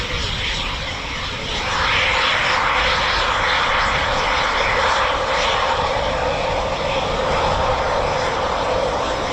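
A Eurofighter Typhoon FGR4 jet passes near the end of an RAF station runway. Its broadband roar rises after the first couple of seconds and holds loud and steady to the end of the clip.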